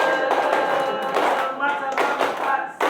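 Rhythmic hand clapping of the tepuk smart routine at a school, several quick claps in a patterned sequence, close and loud, mixed with voices chanting along.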